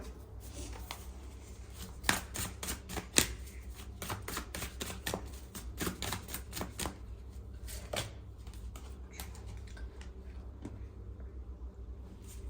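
Tarot cards being handled and drawn for a reading, giving soft papery shuffles and sharp flicks and taps, with a few louder snaps near the start, over a steady low hum.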